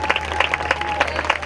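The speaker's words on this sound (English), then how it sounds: "Thank you everyone for your well wishes and your clapping while we went through that." An audience claps continuously at a graduation ceremony, a dense, moderately loud patter of many hands filling the short moment.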